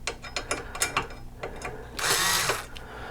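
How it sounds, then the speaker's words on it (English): A power drill drives in screws with short buzzing bursts and clicking, followed by a sustained, louder whir near the end, close up and alone. "put the screws in"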